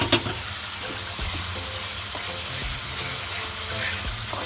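Cabbage cooking in a pot with salt mackerel, stirred with a few scrapes and knocks over a constant close sizzle and bubbling, with no voices.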